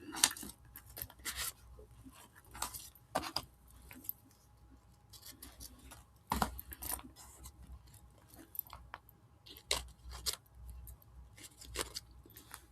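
Scissors snip through paper while making fall craft tags, giving sparse, sharp close clicks and short cuts scattered irregularly against a quiet background.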